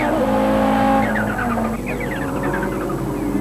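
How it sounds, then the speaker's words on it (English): Audi race cars in a 1992 Wesbank Modifieds race at Kyalami, running side by side through Budget corner: loud, steady engine roar with a rising high-pitched tire squeal and skidding partway through, no talk over it. "The two Audis were already well clear of the rest of the field and side by side through Budget corner."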